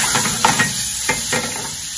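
Shrimp hitting a hot pan of butter and garlic for camarones al mojo de ajo, a close, loud hiss and sizzle with a few sharp spatters and stirring bursts over two seconds.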